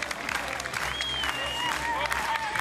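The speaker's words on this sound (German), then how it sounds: "Mit verdientem Applaus." A crowd applauds along the course of a city biathlon mass-start race in Wiesbaden, steady clapping and murmur with a commentator speaking over it.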